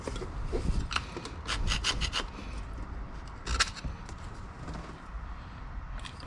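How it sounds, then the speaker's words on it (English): Scraping crud off a cooling system part of a 2006 Nissan Sentra, a series of close, rough rasping strokes repeating in uneven bursts with no talk. "try to scrape some of that off"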